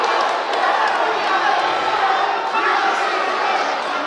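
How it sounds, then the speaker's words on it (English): Loud, continuous howling and roaring of a crowd at an AIGA Champions League grappling match, a dense wall of voices with a commentator's speech mixed in. "Listen to this crowd howl."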